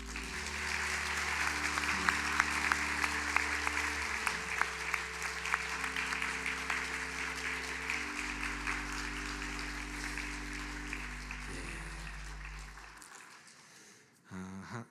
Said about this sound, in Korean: 여러분 격려와 또 위로의 박수를 우리 함께해 주시면 좋겠습니다